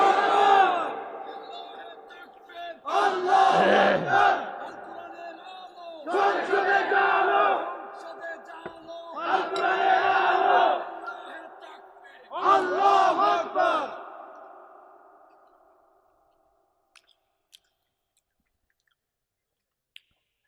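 A large crowd at a Bangla religious sermon roars Allahu Akbar in five loud, long unison shouts spaced a few seconds apart, answering a takbir call, then fading to silence.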